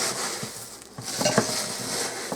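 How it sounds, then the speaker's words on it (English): A Rice Krispie treat mixture is stirred in a pot pulled to the edge of the burner, giving soft, uneven scraping and a few light clinks of the spoon against the pot, close by with no talking. "We're going to start mixing this all around."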